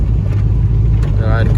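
A loud, rumbling Ram truck engine idles steadily and close, a deep throaty drone filling the whole short clip.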